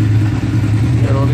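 A Kawasaki GT 550 motorcycle engine idles close by just after starting, a loud low steady rumble with a rough pulsing beat.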